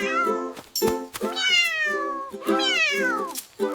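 A cheerful, voiced cat meow in a children's farm-animal song, with several drawn-out melodic meows in a row, clear and close, sung or voiced over music rather than a real animal.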